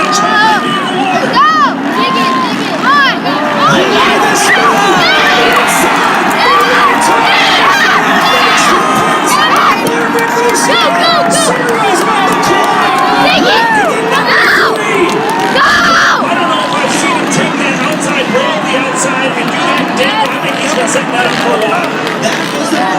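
A crowd at a motocross race roars and cheers steadily, with shrill children's shouts and babble mixed in, loud and sustained throughout.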